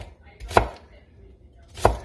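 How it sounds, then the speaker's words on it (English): A knife slices through red onions on a cutting board in two distinct, sharp chops about a second apart, close and loud with quiet between them. "I'm not dicing them or anything. I'm just slicing them down."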